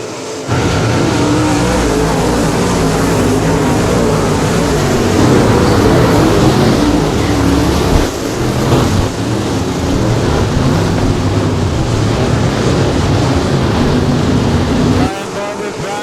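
Modified race cars roar loudly and steadily around the Lake Cumberland Speedway oval, a dense continuous engine drone with a brief dip midway, and a commentator's voice runs over the racket.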